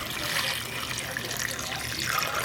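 About three cups of water are poured into a keto soup pot in a kitchen, making a steady, loud splashing rush that runs throughout without a break.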